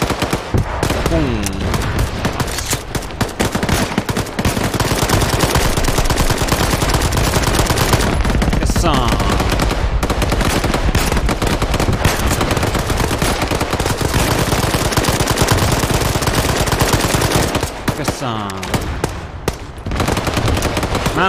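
Arma 3 gunfire during an ambush of Soviets in Afghanistan, with long loud bursts of rapid machine gun fire nearly continuous and close, and occasional voices mixed under the shooting.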